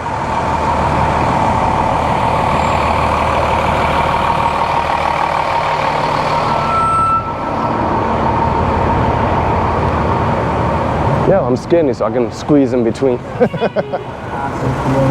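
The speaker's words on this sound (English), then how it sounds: "Look at the traffic jam." Dense New York City street traffic, cars and trucks rumbling in a steady loud wash while a cyclist rides through, with someone talking over the noise near the end.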